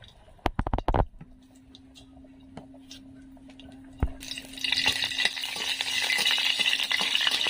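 Dried red chillies hit hot oil in a wok, opening with a few sharp clinks and taps, then breaking into a steady, loud, bright sizzle that builds and holds over the last few seconds.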